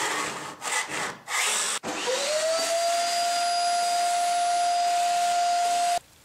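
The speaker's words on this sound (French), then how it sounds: "J'égrène les arêtes de matière" Rough edges of a coarse concrete coating on a tiled sink surround are rubbed smooth in a few short, gritty scraping strokes, followed by a long steady whining hum until it cuts off.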